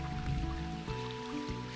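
A small trail waterfall spills down a rocky chute like a little water slide beside a foot-soaking pool on the Long Trail, giving a steady close wash of flowing water with some faint tonal hum underneath.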